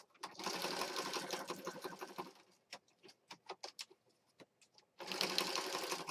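A sewing machine stitches around a journal planner piece, two loud close bursts of rapid whirring separated by a series of slow, distinct single stitch clicks.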